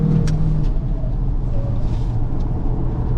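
A VW Arteon Shooting Brake plug-in hybrid in GTE mode accelerates hard around the Nürburgring, its engine droning loud and steady from inside the cabin throughout.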